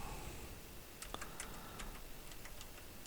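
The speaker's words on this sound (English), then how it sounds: "I'm pushing every single key on the keyboard" Keys pressed one after another on a computer keyboard, producing faint, scattered clicks over a steady background hiss.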